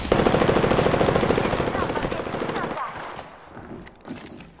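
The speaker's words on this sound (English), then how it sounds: "Shots fired at me." Rapid bursts of automatic gunfire rattle toward the player in a video game, a loud, dense stream of shots for a few seconds that then breaks off into sparse, quieter pops, with a voice talking over it.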